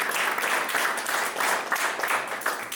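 Guests at a wedding ceremony in a church clap together, a steady, moderately loud round of applause in waves, with no talking over it.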